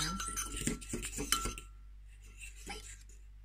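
A spoon stirs cocoa powder in a mug for a microwave mug cake, a quick run of close, bright clinks and scrapes against the ceramic, followed by quieter scraping.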